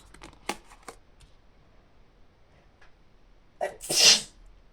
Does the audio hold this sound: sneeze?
yes